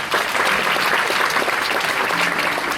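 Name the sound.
audience applause at school prize distribution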